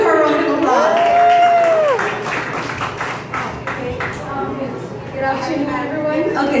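Audience at a temple construction event in Guyana clapping and cheering in a sustained rush of applause, with voices and whoops mixed into the crowd noise.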